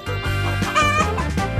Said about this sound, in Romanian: O găină?